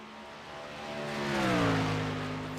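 A race truck engine in a racing game lugs at low RPM, a deep droning hum that swells as the truck nears and pitches down smoothly, loud and alone.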